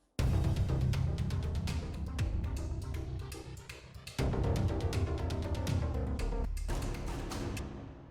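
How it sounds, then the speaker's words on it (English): Sampled orchestral percussion layered with Heavyocity Aeon textures, loud and dense with steady hits and sustained low tones, a brief drop just past the midpoint before the full mix returns. "we combine the percussion and the Aeon"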